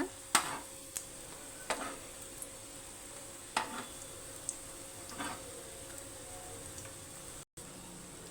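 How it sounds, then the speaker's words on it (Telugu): Bread pieces frying on a low flame in ghee for bread halwa, a faint steady sizzle broken by occasional stirs and taps of a spoon against the pan, with no talking. "సిమ్లోనే వేయించుకోవాలండి ఇలా బంగారు కలర్ వస్తే చాలు రెండు వైపులా"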